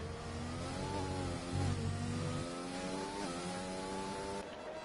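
An F1 race car engine on a hot lap at Spa in a racing game, a loud, steady high-revving whine that climbs through the gears, with brief drops at the shifts.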